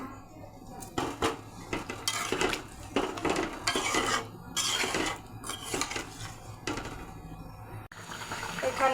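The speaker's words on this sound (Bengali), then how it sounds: "মশলা কষানো হয়ে গেছে, তরকারিটা ঢেলে দেব।" Catla fish and potato curry is poured into a pan of fried spices close by, with wet pouring bursts mixed with clinks and scrapes of pot and utensils.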